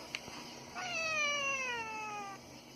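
A domestic cat gives a single drawn-out meow lasting over a second, close and clear with a slowly falling pitch, preceded by a faint short click in an otherwise quiet room.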